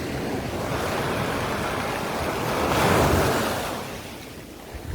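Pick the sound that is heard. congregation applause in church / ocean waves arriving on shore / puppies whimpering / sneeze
ocean waves arriving on shore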